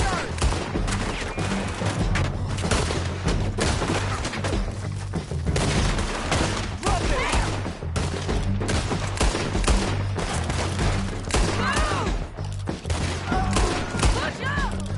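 Dense gunfire in a shootout in the video game Red Dead Redemption 2, loud and continuous with rapid overlapping shots, booms and thuds, with voices shouting over it.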